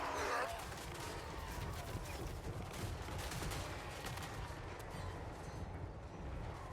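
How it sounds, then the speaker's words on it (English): Massed musket and rifle fire from troops shooting an orc in Total War Warhammer 3, a dense continuous crackle of distant volleys under a low battle rumble, with a voice talking over it. "when he's being shot with this many bullets"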